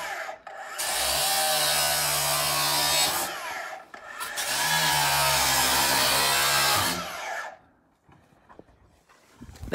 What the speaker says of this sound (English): the cutter's making it so much easier than trying to deal with the nuts and bolts